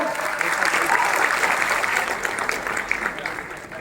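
An audience at a college fest poetry recital claps steadily in dense, sustained applause, loud and close, with some voices mixed in.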